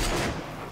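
A sniper rifle shot in the video game Rage: a single loud, close report at the start that decays quickly into a fading rumbling tail, with no talk over it.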